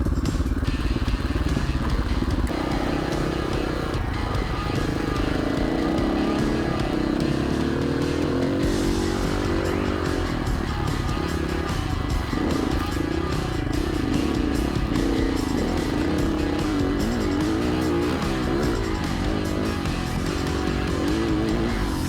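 Off-road riding on Honda CRF450L and KTM 500 EXC-F light adventure motorcycles, with a steady, loud engine drone and shifting revs that run continuously from start to finish, with no clear speech.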